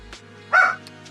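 A pet dog gives one short, moderately loud bark over a quiet indoor background, with faint brief sounds before and after it.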